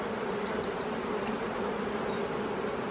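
Honeybees buzzing at an opened hive during a weekly inspection, a dense continuous hum close by with individual bees whining past in quick rising and falling sweeps, no voices.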